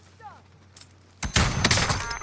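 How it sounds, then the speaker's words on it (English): A first-person shooter firefight: a quiet stretch with a short chirp, then a sudden burst of loud, dense gunfire and impacts that fills the last second, with a voice speaking over it. "Someone's shooting down there at them."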